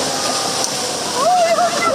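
Large waves driven by Super Typhoon Ragasa crash and splash onto a seaside promenade on Hong Kong Island, a loud continuous wash of water with a voice rising over it near the end.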